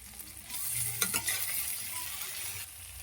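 Shrimp frying in oil in a wok with a steady close sizzle and some stirring scrapes, heard alone without talk.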